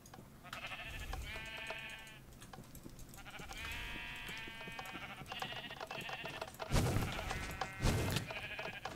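Minecraft sheep bleat again and again in a game world, each call a wavering, nasal cry that recurs every second or two across the stretch, clear and close, with a couple of sharper thuds near the end and no voices.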